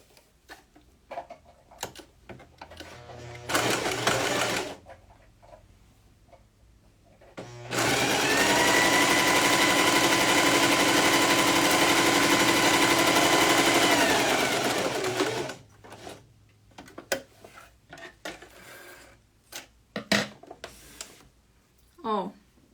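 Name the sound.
sewing machine stitching a seam in fabric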